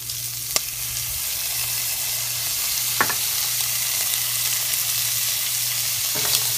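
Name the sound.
chopped garlic sizzling in a pan with sausage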